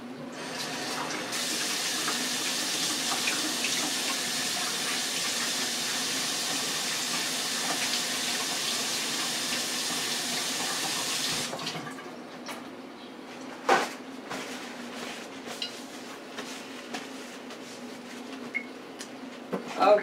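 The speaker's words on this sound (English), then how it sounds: "Okay, so let me wash my hands." Hands being washed under a running kitchen-sink tap: a steady, close rush of water lasts about ten seconds, then cuts off, leaving light handling clatter and a few small knocks.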